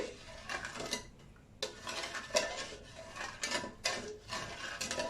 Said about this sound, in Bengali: চিনির শিরাটা নাড়া দিয়ে দিতে হবে যাতে নিচ থেকে লেগে না আসে।